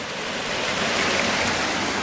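A waterfall in Utah, a loud, steady roar of rushing water close by, continuous and alone with no voices.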